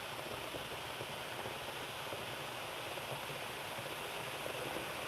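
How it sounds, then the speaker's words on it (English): A steady rushing, bubbling hiss of cold water starting to boil in a pot for Turkish coffee, constant and fairly quiet with no pauses or speech. "we just put cold water in there and you could already see some water boiling around and stuff"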